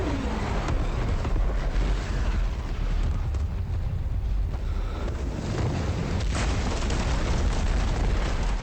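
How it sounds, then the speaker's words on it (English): A boat packed with wildfire detonates in Game of Thrones, producing a loud, sustained, roaring blast that rumbles on without a break and without any voices. "The explosion is so insane it vaporizes a good chunk of Stannis' fleet and Davos Seaworth's son."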